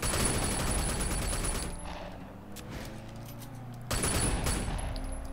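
Bursts of gunfire aimed at car tires in the Sleeping Dogs game, dense rapid shots at the start, a quieter stretch, then another loud burst near the end.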